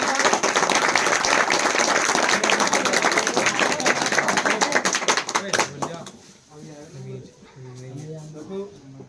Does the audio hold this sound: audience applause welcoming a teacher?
yes